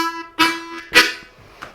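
A short lick on an A harmonica: a sustained held tone followed by two bright, breathy accented blasts, played close and solo, with no talking.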